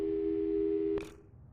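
A steady phone tone plays during a call in the video game Portal 2, a held electronic buzz that holds for about a second and then cuts off abruptly.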